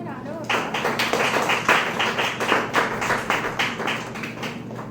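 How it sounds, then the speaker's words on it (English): Audience applause for a guest speaker at a career talk, a dense steady patter of clapping lasting the whole stretch, with voices mixed in underneath. "let's give him a round of applause"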